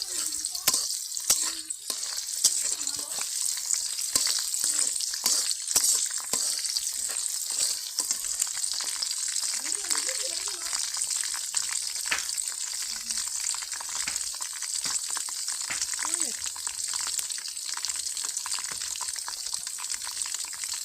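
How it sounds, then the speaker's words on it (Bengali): Onions with whole spices such as bay leaf, cardamom and cinnamon frying in hot oil in a wok, raw jackfruit dish in progress; a steady close bright sizzle runs throughout, broken by frequent spoon scrapes and stirring clicks. "পেঁয়াজটা লাল লাল করে ভেজে নিব"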